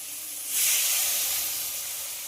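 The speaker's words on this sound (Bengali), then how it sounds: "এবার এতে দিয়ে দেবো পরিমাণ মতো জল।" Water poured into a hot pan of frying potato and tomato curry sets off a sudden loud steamy hiss that swells, then holds as a steady sizzle, close up and with no talk.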